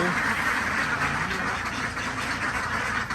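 Egg-laying ducks kept on a small rural farm in Sikhio, Nakhon Ratchasima, quack continuously as a dense, loud flock close by, with no pause.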